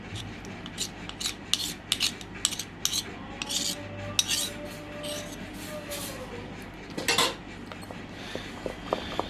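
Metal spoons and cutlery clink and scrape in a home kitchen while a cake batter is prepared, with repeated short rattles and rasping rubs close by over a low steady background.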